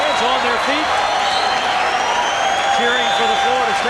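A stadium crowd of more than 6,000 fans on their feet at a 1991 college baseball game between Florida State and Miami, roaring steadily with a play-by-play announcer talking over it throughout.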